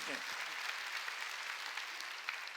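A church congregation at a Sunday worship service claps together, a steady wash of applause at a fairly low level, with a brief voice heard at the very start.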